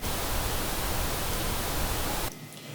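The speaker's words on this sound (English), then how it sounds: "And over here I have pink noise here." A loud, even hiss of pink noise used as an audio mixing test signal plays steadily, then cuts off abruptly near the end, leaving quiet behind it.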